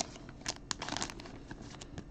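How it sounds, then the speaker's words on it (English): Crinkling of paper packaging as a baseball card pack is opened during a live break, a run of close, dry crackles and small tears with no talk. "That's paper."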